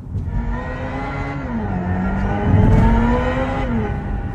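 Hyundai Ioniq 5 N electric car playing its synthetic engine sound in ignition mode, a steady droning engine-like tone with layered harmonics that rises slightly as if revving, continuous and fairly loud with no talk.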